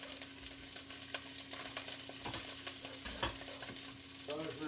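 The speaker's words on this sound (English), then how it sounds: "I'm just firing in my mirepoix." Mirepoix frying in a pan, a soft continuous sizzle with occasional stirring scrapes and small clinks, fairly quiet and close, no voices.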